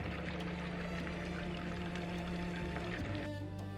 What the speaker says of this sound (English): water flowed again.